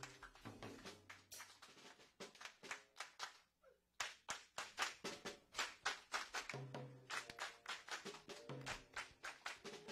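A church revival congregation claps in bursts of sharp, uneven hand claps, briefly pausing before resuming with rhythmic applause, fairly close.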